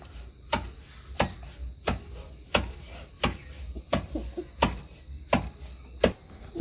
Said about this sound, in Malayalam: അപ്പോൾ നമ്മുടെ അണ്ടിപ്പരിപ്പും കൂടി ഒന്ന് നമുക്ക് ചതച്ചെടുക്കാം